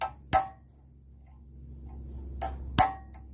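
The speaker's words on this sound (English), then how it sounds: "Hopefully a lightweight hammer." Sharp taps of a lightweight hammer on a Peugeot 504 station wagon's MacPherson strut come in two pairs of close metallic strikes over a low steady hum in a quiet workshop.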